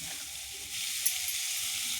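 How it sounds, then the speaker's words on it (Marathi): Chopped cabbage fries in hot oil for a Marathi dry cabbage and chana dal dish, giving a steady, close, fairly loud sizzling hiss that swells slightly midway and continues without talk. "तेलामध्ये ही गोबी कलसून घ्यायची मस्त."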